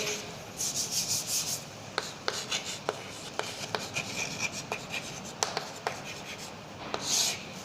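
Chalk or marker strokes on a board during an organic chemistry lecture, with scratchy rubbing bursts and sharp taps spread unevenly across the stretch, close and fairly clear, with no talking.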